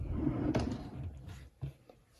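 A drawer in a home craft studio slides open with a close wooden rumble and knock, followed by a softer bump, with no talking.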